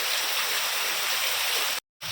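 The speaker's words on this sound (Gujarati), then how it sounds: "હવે કાંઈ વરસાદ દેવા માંડ્યો" Rain pouring steadily outdoors, a dense, loud broadband hiss without talk that cuts to silence briefly near the end and then resumes.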